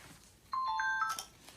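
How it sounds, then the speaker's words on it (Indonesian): A telephone ringtone plays once at a house, a short electronic melody of a few bright rising tones, fairly faint against a quiet background. "dia mendapat telepon."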